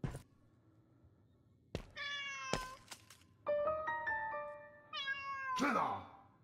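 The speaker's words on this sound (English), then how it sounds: "So it's the cat." A cat meows several times in the video game Rosemary's Fate, with three drawn-out, close and fairly loud calls separated by short gaps and a few soft thumps in between, and no talking.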